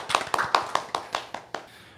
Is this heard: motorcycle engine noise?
no